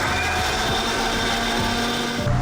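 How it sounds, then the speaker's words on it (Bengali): An electric mixer jar grinds a masala of chilli, tomato, coriander, cumin, ginger and onion, giving a steady close motor whir with a rough churning texture throughout, no talking. "মশলাটা ব্লেন্ড করে নিচ্ছে।"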